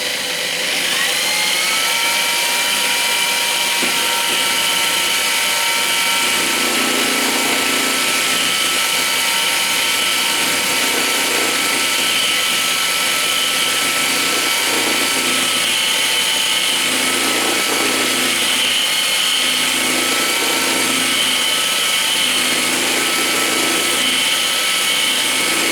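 A balsa wood block spins on a lathe while a rasp is worked along its length, giving a loud, steady machine whine with a continuous gritty scraping that rises and varies rhythmically as the tool moves, no speech over it.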